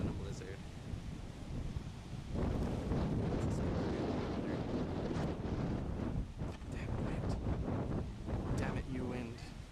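Strong wind gusts buffet the microphone in a storm on the Saskatchewan prairie during flooding, a continuous loud roar that surges and swells throughout, with brief bits of distant voices mixed in.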